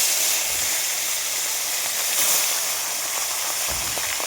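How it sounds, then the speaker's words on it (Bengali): Tilapia fish, washed and coated in salt and turmeric, frying in hot oil, a loud, steady close hiss and sizzle with no pauses. "ভালো করে ধুয়ে নুন হলুদ মাখিয়ে ভেজে নিলাম"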